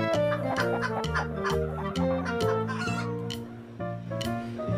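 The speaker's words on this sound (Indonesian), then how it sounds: "Ini ada ayam." Continuous electronic chicken clucking with a musical backing from a toy, steady and close, playing alone without talk.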